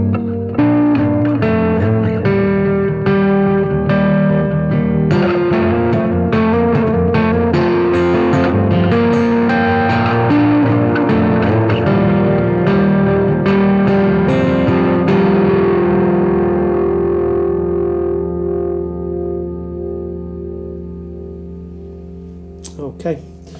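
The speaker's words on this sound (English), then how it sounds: "this is set on the hall setting, so it adds quite a grand amount of reverb" An acoustic guitar rings through a hall reverb effect with a reduced decay and level, strummed chords and picked notes sustaining in a wide wash before the last chord dies away into near silence.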